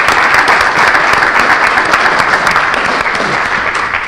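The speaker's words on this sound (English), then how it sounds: "Round of applause." Loud, dense applause from the audience at the graduation of the first North Haven Community Emergency Response Team, a continuous close roar of many hands clapping that carries on steadily without fading.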